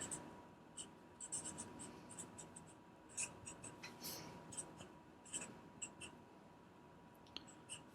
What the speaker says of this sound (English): let me get my magic marker out here